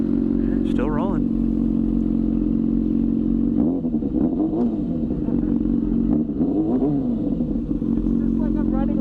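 A 2006 Yamaha FZ6 motorcycle engine drones loudly while being ridden, with steady low engine tone and a few rising revs and gear changes, wind noise throughout.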